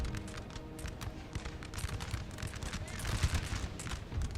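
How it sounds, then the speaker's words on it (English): Faint battlefield fire in the video game Napoleon Total War crackles as rapid, overlapping cannon and musket shots. The booms and pops run in a continuous uneven volley, heard from a distance. "Can my cannons actually fire here and focus in?"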